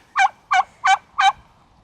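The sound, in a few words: turkey gobbling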